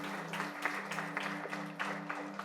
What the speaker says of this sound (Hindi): सतारा को जोरदार तालियां बजाइए।